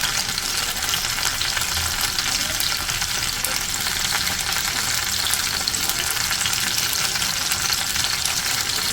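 Lentil dumplings (bori) frying in hot oil, a steady, dense sizzle that runs unbroken from start to finish at close range with no talking.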